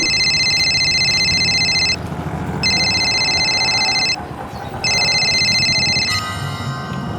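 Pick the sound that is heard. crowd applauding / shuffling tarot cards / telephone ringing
telephone ringing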